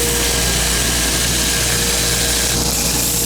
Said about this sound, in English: we're gonna sand this down to put the actual fit and feel of the knife in place.